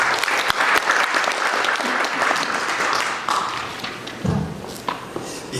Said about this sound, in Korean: 박수 보내주시다.